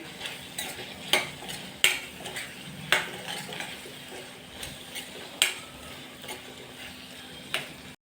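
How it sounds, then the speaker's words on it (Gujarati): A spoon stirring Kashmiri chilli powder and coriander-cumin powder in a cooking pot, with sharp metallic scrapes and clinks at irregular intervals over a soft steady sizzle. "એને હલાવી લેશું"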